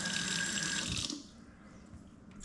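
Water pours steadily from a tap or vessel into a probiotic yogurt machine holding eight jars, a close rushing stream for about a second before stopping and leaving quiet room tone.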